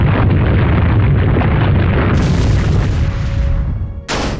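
Earthquake attack in the video game Manamon 2 during a catacomb boss battle: a loud, sustained rumbling explosion with heavy low roar for about four seconds, ending in a brief sharp burst, with no talk.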